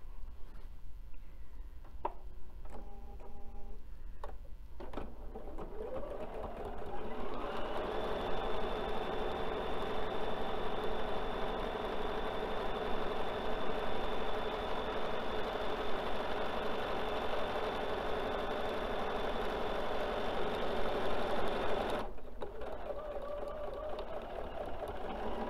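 Sewing machine stitching a fabric placemat, a steady, close mechanical whir running for most of the stretch before stopping briefly near the end, heard without talk.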